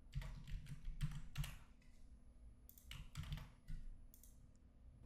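Keystrokes on a computer keyboard while code is deleted, arriving in two quick bursts of close clicks separated by a brief lull, with no speech.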